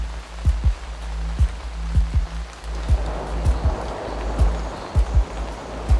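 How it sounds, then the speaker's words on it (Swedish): Rain patters steadily in a storm on a mountain, heard from inside a shelter with broadband hiss, while low dull thumps of drops striking the fabric repeat irregularly, close and moderately loud. "Nu ligger vi här i regnmolnet."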